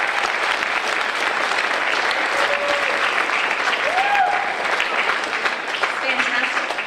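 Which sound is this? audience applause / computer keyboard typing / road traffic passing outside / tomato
audience applause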